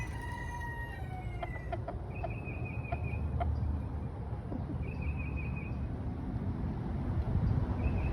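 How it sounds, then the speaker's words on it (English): A backyard rooster crows repeatedly at moderate distance, its calls rising over steady outdoor background noise while hens cluck softly nearby. "that's the rooster those hens belong to"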